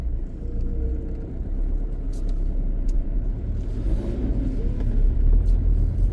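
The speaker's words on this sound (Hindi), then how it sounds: "सुबह के 3 बजे भी ट्रक चल रहे हैं।" A truck rumbles steadily along a road near Jim Corbett at about 3 a.m., a continuous low, fairly close engine drone with faint hissing and clicks over the top, heard with no talking.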